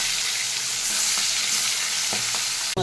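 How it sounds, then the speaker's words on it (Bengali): Fish pieces frying in oil in a pan for a potato curry, a steady loud sizzle with occasional stirring scrapes and clinks, no talking. "মাছগুলোকে ভেজে নিচ্ছি"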